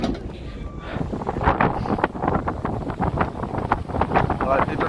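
Strong wind buffets the microphone outdoors near a bridge, a constant rumbling roar with gusty surges throughout, and a voice speaks faintly underneath.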